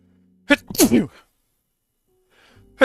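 A single sharp sneeze bursts out, close and loud, followed by a brief quiet pause before faint sounds return.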